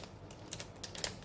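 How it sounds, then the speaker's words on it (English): Plastic wrapping on a paper planner crinkles in short, soft bursts of crackle, close and faint, with no voices. "I apologize for the crinkling of the plastic"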